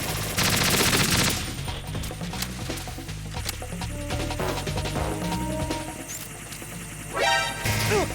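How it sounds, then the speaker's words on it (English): Gunfire in the video game Metal Gear Solid 2, a dense, loud fusillade of rapid shots over droning game music, with a burst of heavier impacts near the end. "Hey, shoot this fucker."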